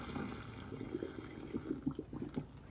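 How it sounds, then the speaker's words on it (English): Hot boiling water from cooking hard-boiled eggs is poured down a sink drain, a steady close gurgling splash with rough bubbling pulses for a few seconds. "That just goes down the drain like that."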